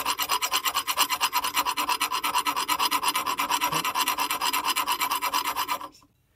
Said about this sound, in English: we're gonna try filing it